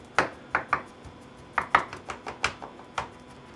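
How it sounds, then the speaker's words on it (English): A knife or jacquard tenderizer pierces raw top round steak on a board, giving a quick irregular series of sharp close taps and punctures with short pauses. "you can just pierce it with lots and lots of little holes"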